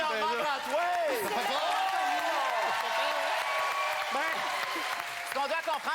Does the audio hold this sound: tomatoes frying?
no